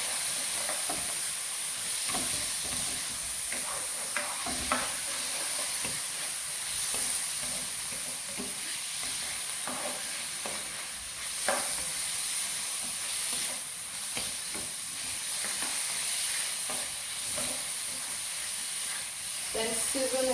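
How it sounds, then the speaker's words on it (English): Beef pieces fry in hot oil in a pan for a stir fry, giving a continuous close hiss and sizzle. Scraping stirs sound intermittently throughout. "Add the beef to the oil."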